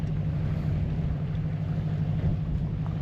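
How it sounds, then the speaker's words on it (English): A ferry passing a sailboat on calm water, heard as a steady low engine drone with a faint wash of water and light wind. "And we have a ferry going by"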